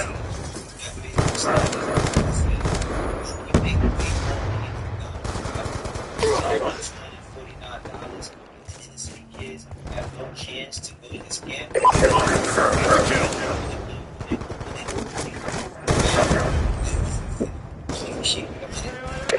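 Gunfire in Call of Duty Black Ops 2 crackles in dense repeated bursts and volleys, with clinks and mechanical game sounds, loud throughout, under intermittent radio-style voices.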